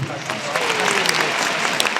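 Audience applause at a concert band performance, a full, continuous burst of clapping from a large crowd, heard close and loud for a brief moment.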